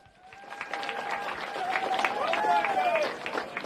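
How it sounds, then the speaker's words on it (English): A crowd cheers and claps at a motorcycle race awards ceremony at Willow Springs Raceway, swelling applause and whoops building loudly, with a voice over the noise. "And the crowd goes wild."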